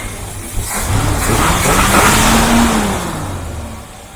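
A 1977 Mercury Cougar engine running after a carburetor rebuild, idling roughly then revving up and easing back down in one loud, close swell with no talking.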